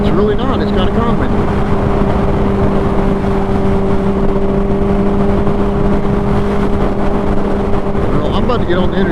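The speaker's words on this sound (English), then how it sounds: "We all know you can't hear shit on this bike on the interstate" Loud, steady engine drone and wind roar from a motorcycle riding onto the interstate, heard continuously up close, with a person talking over the noise.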